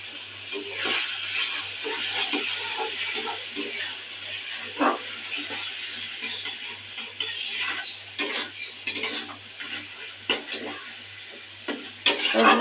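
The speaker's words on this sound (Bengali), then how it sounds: "কষতে থাক। মাংসটা আমার কষানো হয়ে গেছে।" Chicken sautéing in a pan with salt and turmeric, a steady close sizzle broken by scraping stirs and occasional sharp utensil clinks against the pan.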